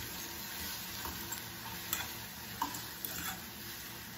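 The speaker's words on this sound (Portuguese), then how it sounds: "Vamos dar uma misturadinha aqui no ovo." Egg being stirred with oregano in a pan, a soft, quiet sizzle with faint scraping clicks of a utensil against the pan.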